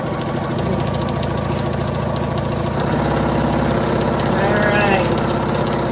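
Embroidery machine stitching a practice panel: a steady, rapid mechanical chatter and hum of the needle running continuously at close range, with faint background sounds.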